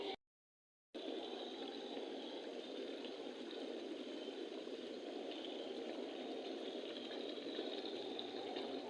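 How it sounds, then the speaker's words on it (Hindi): Chicken wings in masala cook over a high flame as the water boils off, making a continuous close hiss of sizzling and bubbling after a brief moment of silence at the start. "फ्लेम इसलिए मैंने हाई की है ताकि ये पानी जल्दी ड्राई हो जाए।"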